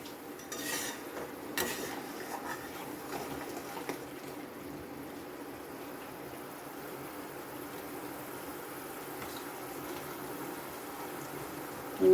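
Small koi fish going into a pan of bubbling curry, with a steady low simmer and soft stirring and scraping, plus a few brief clinks near the start.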